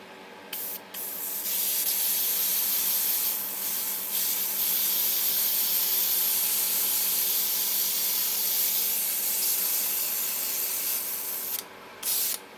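Flat clear lacquer, Mr. Color 182, sprayed from an airbrush onto a Hasegawa Egg Girls MiG-15 Eggplane plastic model kit, a close, steady hiss running in long bursts with a few brief pauses.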